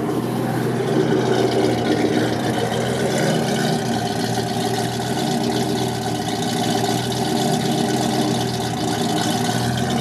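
A steady, continuous 1966 Mercury Cyclone engine idle runs throughout with a low rumble and even hum, fairly loud and close, with no voices.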